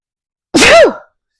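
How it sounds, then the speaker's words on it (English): One loud, close human sneeze, short and explosive, alone against silence. "I got to sneeze."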